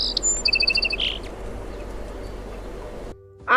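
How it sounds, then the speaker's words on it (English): A sparrow gives a quick burst of bright, high chirps at the start, then a soft noisy stretch before a single sharp chirp returns at the end. "sparrow,"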